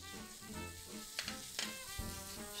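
Steady sizzling of ground meat frying in a hot pan, continuous and fairly close, with a few sharp crackles and clinks over background music.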